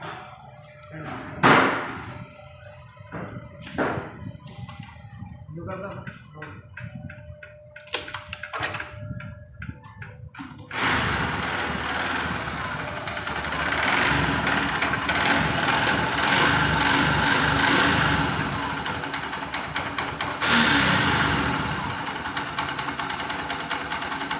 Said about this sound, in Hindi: इंजन को खोलने से पहले हम उसका नॉइस आपको सुना देते हैं।